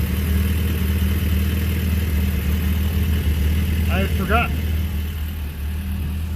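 A revived old first car with a catalytic converter fitted idles as it warms up, its engine giving a steady, close, low rumble throughout, with people talking briefly over it.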